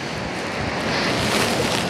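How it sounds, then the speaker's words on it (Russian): Steady roar of rough, stormy sea surf at Anapa with wind noise, continuous and fairly loud, no voices. "На море сегодня шторм, смотрите"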